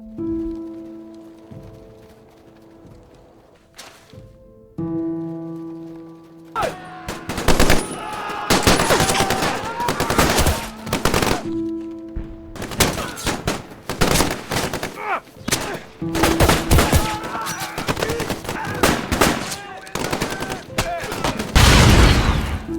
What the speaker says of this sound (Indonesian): Dan baku tembak hebat pun terjadi.